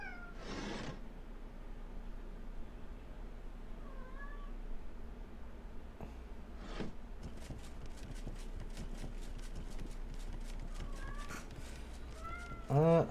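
A cat in Divinity Original Sin 2 meows repeatedly and insistently, loud, drawn-out cries at the start and again midway, then a run of shorter mews near the end over soft game ambience.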